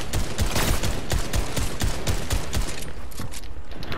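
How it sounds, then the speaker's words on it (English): Rapid bursts of automatic gunfire in a Fortnite Battle Royale squads match, sharp loud repeated shots in quick succession, close and dense with no talking. "Oh, he's gonna shoot me again."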